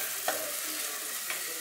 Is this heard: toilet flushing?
no